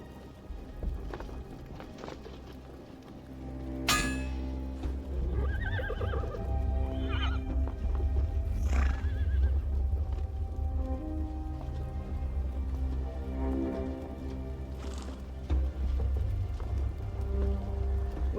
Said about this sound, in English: Dismount from your horses at once.